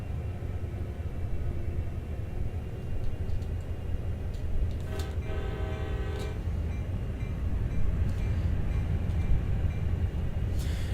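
A steady low rumble of a freight train with two AC-44 locomotives rolling by, with a brief horn-like tonal sound partway through and faint ticking clatter throughout.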